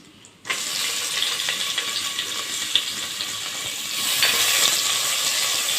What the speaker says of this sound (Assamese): পিঁয়াজটো ভালকৈ ৰঙচুৱা হোৱালৈকে ফ্ৰাই কৰি ল'ম